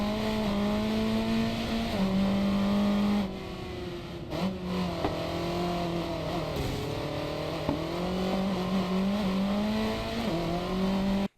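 Racing car engines in the mobile game Racing Master, with licensed cars such as Ferrari, Lamborghini and Porsche, rev hard and climb through repeated gear shifts, loud and continuous with brief dips between pulls.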